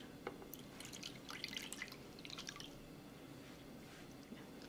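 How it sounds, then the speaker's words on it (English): Sauce poured into shrimp ceviche makes soft, faint wet drips and squishy splashes in a quiet kitchen, irregular and close. "So now let's go ahead and add our sauce."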